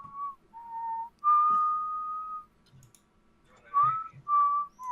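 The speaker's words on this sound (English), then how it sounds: "Who's whistling?" A person whistles a simple tune in a series of clear, close, sustained notes with short gaps, alone with only faint background noise.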